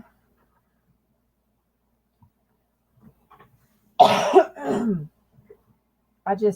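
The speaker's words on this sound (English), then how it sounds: "These coughing fits are exhausting." A couple of harsh coughs burst out after a long near-silence, followed by another short cough near the end, close to the listener.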